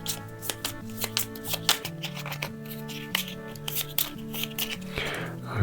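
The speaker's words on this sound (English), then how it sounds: "Let's give these a shuffle." Cards being shuffled for the Mythwind board game, a run of crisp riffling and snapping bursts repeating at an uneven pace, close up with soft handling noises between them.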